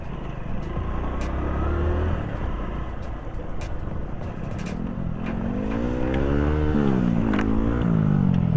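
A Hero Splendor motorcycle ridden off-road through monsoon jungle: a loud, close engine drone that rises and revs over rough ground, with wind rush and occasional thumps, and no talking.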